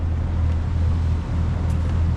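Boat idling down a canal on a windy day, a steady low engine rumble with wind buffeting the microphone, continuous and close throughout.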